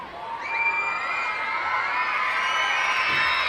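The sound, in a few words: crowd of kids screaming at a ballpark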